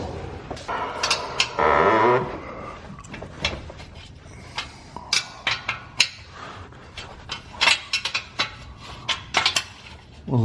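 Metallic ratcheting and clinking of a hand tool working 13 mm bolts on a BMW N54 engine, with a brief whirring burst near the start followed by a series of sharp, close clicks and clanks.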